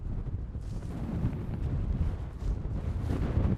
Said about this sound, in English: It's going to be a really windy night, so I'm hoping that the audio isn't too bad.